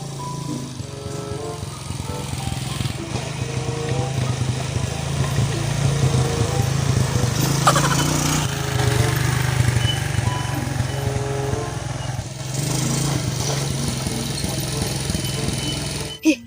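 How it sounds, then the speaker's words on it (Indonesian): A broken motorcycle's small engine drones steadily and close up for the whole stretch, its pitch wavering slightly, with faint voices underneath. "Ya, motor aing ini rusak."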